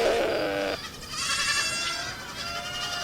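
Goats on a farm bleat in several wavering, nasal calls, one after another and close by, loud and clear with no talking over them.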